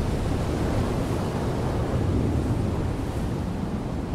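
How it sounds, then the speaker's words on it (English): Rough ocean surf on a stormy day, a continuous loud roar of breaking waves and churning water with wind buffeting close by, steady throughout with no voices. "his mother chooses a particularly rough surf day"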